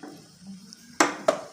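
Two sharp metallic clanks, about a third of a second apart, as a lid is set on a pot of water put to boil for steaming modak, near and clear after a quiet moment.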